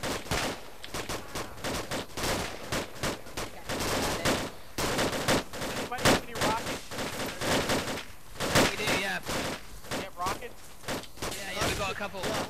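Dense gunfire in a military shooter video game, rapid automatic bursts and single shots crackling almost continuously, with men's radio-style voices talking over the shooting.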